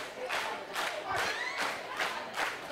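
A crowd at an indoor wrestling tournament cheers and shouts in repeated surging waves, a dense roar swelling and easing about every half second, heard from within the audience.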